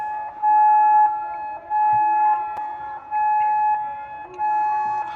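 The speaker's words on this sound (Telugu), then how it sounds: "వార్నింగ్ సైరన్స్ ఉన్నాయి కదా, అవి మోతున్నాయి" Wartime warning sirens sound in long, steady wails that rise and fall in four repeated cycles, each holding a sustained tone, with no voices on top.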